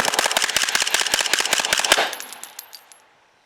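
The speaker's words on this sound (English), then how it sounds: "Now let's go to the binary mode and dump the mag." Rapid burst of an LSW rifle emptying a full magazine in binary mode, sharp evenly spaced shots for about two seconds, then echoing decay and a few faint metallic clicks.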